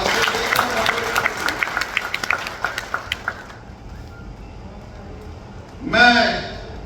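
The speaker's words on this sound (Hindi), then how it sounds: "भाई एक बार मोदी जी को ताली बजा के धन्यवाद देता" Audience applause at the India Carpet Expo opening, a dense burst of clapping with sharp individual claps fading after a few seconds, followed by quiet and a brief loud voice.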